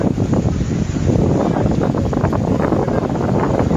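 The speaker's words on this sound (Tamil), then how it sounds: "அருப்புக்கோட்டையில் பல்வேறு இடங்களில் நேற்று மாலை பலத்த சூறாவளி காற்று வீசியது." Strong cyclone wind gusting hard and carrying dust in Aruppukottai, a loud continuous roar with buffeting across the whole clip and no voices.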